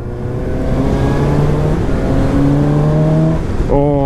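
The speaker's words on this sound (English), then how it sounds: "Oh, I've missed the 4-cylinder sound, man." A 2017 Suzuki GSX-S750 four-cylinder motorcycle engine revs steadily nearby, its harmonic drone rising and falling, with a sharp pitch climb as the throttle opens near the end.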